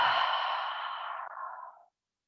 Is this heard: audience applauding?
no